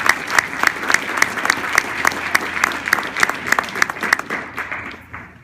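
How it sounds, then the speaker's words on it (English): An audience claps for an induction ceremony honouring achievers, a brisk, steady round of applause with distinct individual claps, fading slightly at the end. "please give them a round of applause for this great accomplishment"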